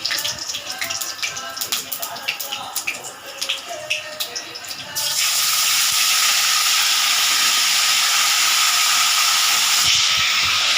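Ginger-garlic and fennel seeds dropped into hot oil already holding cinnamon and cloves: a crackling patter that suddenly swells into a loud, steady sizzling hiss lasting several seconds, close and without talk.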